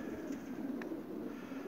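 Soft, low cooing from racing pigeons awaiting release murmurs steadily at close range, with a brief faint chirp partway through.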